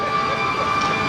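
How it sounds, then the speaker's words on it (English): An ambulance siren wails loud and steady, a sustained tonal cry with no voices over it. "look at the timing of this ambulance"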